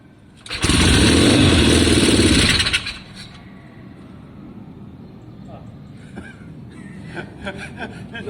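A Triumph Bonneville T120 motorcycle engine fitted with a Pazon electronic ignition catches and fires in a loud roaring burst for about two seconds, then dies away, followed by quiet background noise and faint voices.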